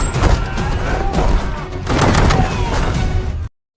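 Enemy gunfire in a Kraven the Hunter action scene bursts out as a loud, dense volley of shots and crashing impacts in two main clusters, ending abruptly.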